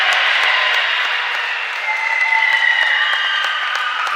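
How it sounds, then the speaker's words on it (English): Loud crowd applause and cheering at a FIBA Masters over-50 basketball final between Australia and Serbia, sustained clapping filling the arena for several seconds after a made free throw. "And the Australians cheering it"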